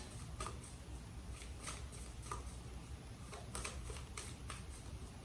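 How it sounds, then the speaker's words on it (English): Tarot cards being shuffled at close range, a series of soft, quick riffling clicks and taps in an uneven rhythm, quiet and alone with no talking. "Black Shuffle."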